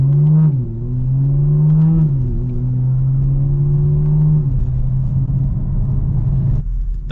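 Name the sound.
BMW G82 M4 exhaust revving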